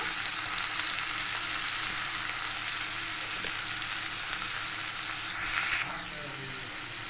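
Two medium chopped tomatoes fry in a pan for a Bengali semai roll filling, giving a steady, close, dense sizzle that runs unbroken for the whole stretch, with a faint scrape of stirring near the end and no talking.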